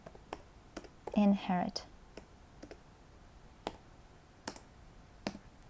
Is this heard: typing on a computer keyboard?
yes